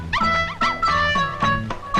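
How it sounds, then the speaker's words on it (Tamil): A dog barks and yelps in a quick series of loud, close, whining barks, about five bursts in two seconds, with no one talking. "இது மந்திரத்தை கட்டுப்படாத நாயி."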